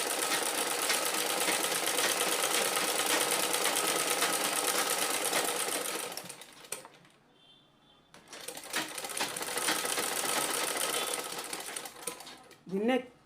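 A sewing machine stitches an overlapped neckline at a half-inch seam allowance, running in long, steady close-up bursts with a brief pause in the middle before it resumes.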